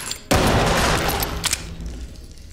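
A grenade detonates in the tactical shooter game Ready or Not, a sudden loud blast followed by a dense rumbling, crackling decay with a couple of sharp pops trailing off.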